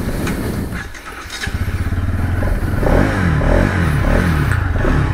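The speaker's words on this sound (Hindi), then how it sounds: "एक बार इसको चला के देख लेते हैं।" A 2024 Bajaj Pulsar NS200 motorcycle rides with its engine running loud and close, revving in pulsing bursts as it accelerates, with some rattly clatter underneath.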